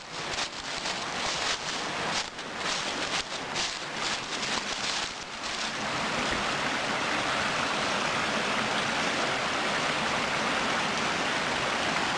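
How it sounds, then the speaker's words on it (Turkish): Rushing water roars steadily, a broad constant hiss of Çukurçakal Waterfall close by, recorded from above the falls, with some rustling handling noise early on. "Şelaleye geldik arkadaşlar. Şu an şelalenin üst tarafındayız."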